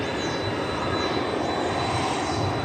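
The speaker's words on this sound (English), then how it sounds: "what you hear in the background now is that 757 we saw land from Austin" A Boeing 757 airliner approaching at DFW Airport produces a continuous broad engine roar with a faint high whine, steady and fairly loud, with no voices over it.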